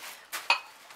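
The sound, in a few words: pink dishes being handled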